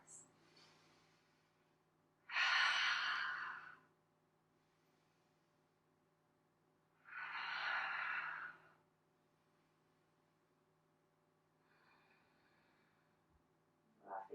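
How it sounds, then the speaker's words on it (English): Slow deep breaths during a flowing yoga session, two long broadband exhalations spaced several seconds apart with a faint third toward the end, close and soft over a quiet room hum. "deep breaths"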